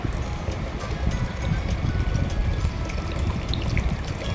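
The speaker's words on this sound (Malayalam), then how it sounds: "ഞാൻ എനിക്ക് ആവശ്യത്തിനുള്ള വെള്ളം ഒഴിക്കണം കേട്ടോ." Steady splashing of water being poured into a lemon juice mix, a continuous gurgling stream close by with faint clinks, no talking.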